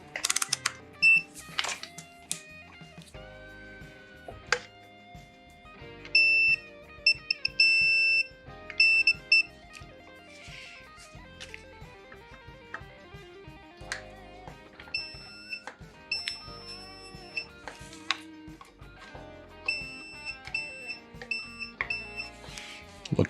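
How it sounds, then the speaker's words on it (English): A multimeter on continuity mode beeps while probing the shielded control cavity of an SG-style kit guitar, giving repeated short electronic tones in an irregular rhythm, close and clear with no talking. "now let's check for continuity"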